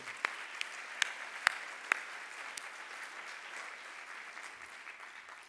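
An audience claps through a tribute at a science event, a soft, distant patter of applause with a few sharper claps near the start that thins out toward the end.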